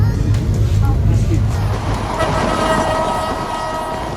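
The Benapole Express passenger train runs along in Bangladesh, heard as a loud, steady low rumble of wheels and carriages that eases slightly after the first couple of seconds.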